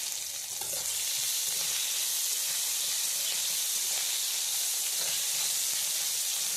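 Whole green chilies and crushed ginger sizzle in hot tempering oil with bay leaf and five-spice seeds for a simple khichuri, a loud, steady, crackling fry that holds continuously.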